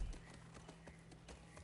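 Horse hooves clip-clopping faintly in The Last of Us Part II on PS5 while riding through brush, a quiet, steady walking rhythm of soft thuds under a low background hum.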